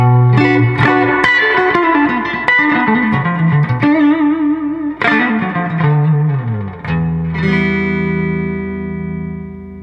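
Electric guitar plays twangy single notes and bends drenched in a splashy, wet reverb, bright and loud with sustained ringing tails.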